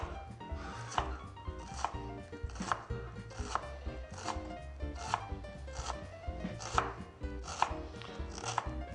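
A knife chops vegetables on a cutting board for Italian chili, about a dozen crisp, evenly spaced thuds in a steady rhythm, close and clear with no talking.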